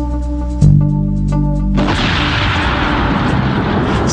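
Project HARP cannon firing a rocket projectile: after a low droning tone, a sudden heavy boom bursts out and decays into a long rushing roar.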